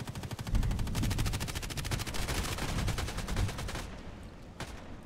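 G36C rifle firing in the video game Contract Wars: rapid fully automatic bursts with evenly spaced shots, loud and sustained for several seconds, then a few separate single shots.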